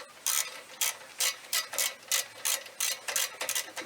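A ratchet wrench tightens a 14 mm bolt on a catless Invidia downpipe of a 2013 Subaru STI, giving a steady series of about ten crisp, close clicking bursts in an even rhythm with no talk.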